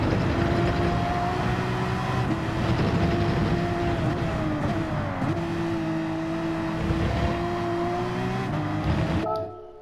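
A Porsche 911 RS engine in Gran Turismo 7 revs and accelerates loudly and steadily, its pitch climbing and dipping through gear changes before cutting off abruptly at the end.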